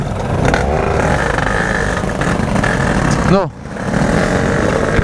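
Yamaha RX two-stroke motorcycle engine revving while warming up, loud and close, with a steady buzzing roar, a brief sharp throttle drop near the end and a quick recovery; a voice says a single short word.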